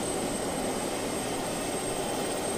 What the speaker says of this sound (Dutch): zoals je ziet is dit vliegtuig pittig snel